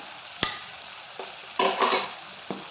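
Onion and cashews fry in a pan, a close sizzle marked by a few sharp spatula knocks and a louder, longer burst of crackling near the middle, with no talking.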